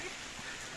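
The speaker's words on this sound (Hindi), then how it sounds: "बाहर बहुत जोर की बारिश हो रही है।" Dense, even hiss of heavy rain fills the brief moment, steady and loud with no pauses.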